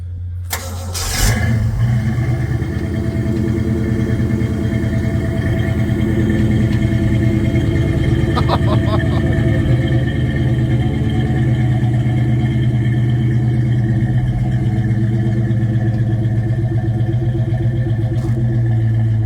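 1968 Ford Mustang GT/CS California Special with its 302 V8 cranks and fires, catches loudly, then settles into a steady rumbling idle with a brief blip partway through.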